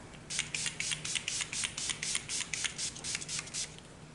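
Urban Decay All Nighter setting spray sprayed in a rapid run of short hissing pumps, about a dozen quick bursts in a steady rhythm, close and with no one talking.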